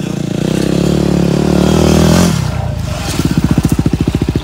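A Yamaha WR250R motorcycle rides through a state forest, its engine droning steadily near and loud, then easing off before a rhythmic pulsing putter as the bike slows, with no talk.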